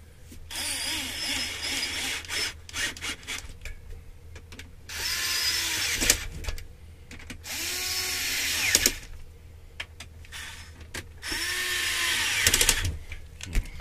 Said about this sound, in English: Take our drill, set the speed.